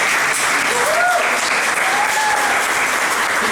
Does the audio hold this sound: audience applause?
yes